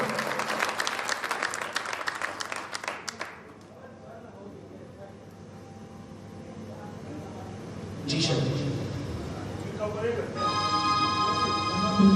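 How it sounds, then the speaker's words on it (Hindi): Loud, dense applause from the audience at a Hindu bhajan kirtan fills the first three seconds, then stops abruptly and gives way to quieter room sound with tonal, music-like layers. "अच्छा एक बार श्रृंगार के लिए जोरदार तालियां बजाओ"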